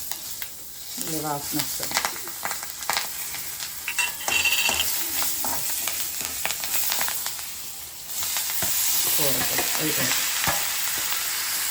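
Green chillies and curry leaves frying in a pan for a Telugu gummidikaya curry, a continuous sizzle and hiss with stirring scrapes, and a voice speaking briefly over the cooking.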